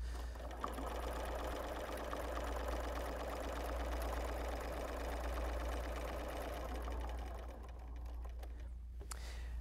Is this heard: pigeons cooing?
no